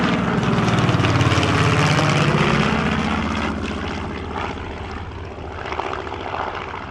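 Spitfires and an FW-190 fighting a mock dogfight at an airshow in Illawarra, piston engines droning loud and close with a swooping pitch shift as they pass, then fading to a rougher, more distant growl.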